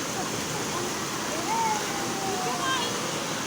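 Continuous rushing water from the waves of a resort wave pool fills the scene with a broad, steady wash, and faint voices and a few distant whistle-like tones sit in the background.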